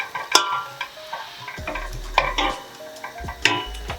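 Onion and carrots being stirred in a frying pan for a mince and tatty pie, with spoon scrapes and pan knocks over a light sizzle, close and moderately loud, with no talking.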